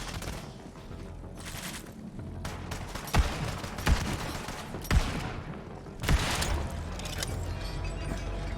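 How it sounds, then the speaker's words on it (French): Gunfire in the video game Borderlands 3, a dense continuous rattle of rapid shots with a few heavier booming blasts standing out, loud and steady throughout. "Une balle pour toi, et une balle pour toi, des balles pour tout le monde."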